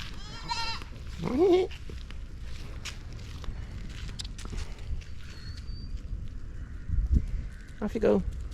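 Goats bleat in an Indian city street, a few loud nearby calls spread out over people talking and background bustle.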